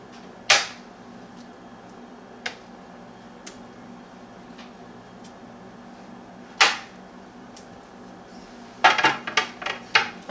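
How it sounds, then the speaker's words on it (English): Pork chops set back into a pan of thickened soy-honey glaze, with a few sharp separate clanks of utensil and pan and a cluster of quick clatters at the end over a quiet background. "I'm going to go ahead and put these pork chops back in here."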